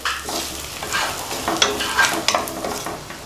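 Spices sizzle in a hot frying pan for vatha kuzhambu while a utensil stirs and scrapes through them in irregular strokes, close and steady.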